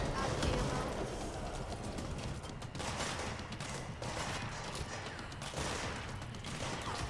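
Continuous gunfire in a video game battle, with dense overlapping shots and a steady rattle that runs throughout at moderate loudness beneath other game noise.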